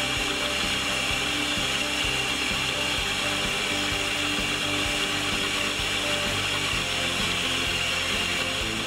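A mill drilling through brass clock frame plates gives a continuous, loud mechanical whir with fine rapid ticking and grinding that holds steady throughout.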